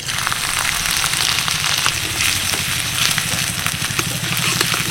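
Whole cardamom, cloves, cinnamon, cumin seeds, a dried chilli and grated ginger fry in hot oil, giving a steady, close sizzle with scattered small pops and crackles throughout, no voices.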